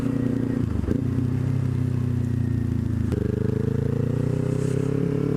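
A Kawasaki Ninja 400 with a freshly repaired clutch, ridden on a test ride, gives a steady loud engine drone with a brief shift around the midpoint, close and continuous throughout.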